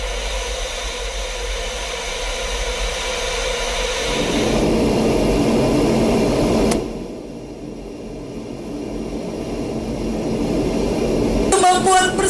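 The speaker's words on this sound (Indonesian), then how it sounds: "Formasi pesawat tempur ini terdiri dari pesawat T-50 Golden Eagle dan F-16 Fighting Falcon." Indonesian Air Force T-50 Golden Eagle and F-16 Fighting Falcon fighter jets in an arrowhead formation flypast over an Independence Day ceremony, a broad jet roar swelling loud, then easing and building again, with a narrator talking over it.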